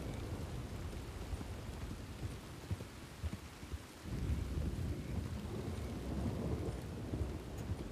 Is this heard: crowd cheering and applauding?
no